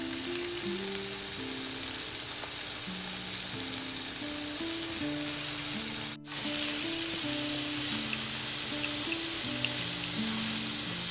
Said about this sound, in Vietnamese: Lên một cái chảo ha. Rồi các bạn để vô chiên đó.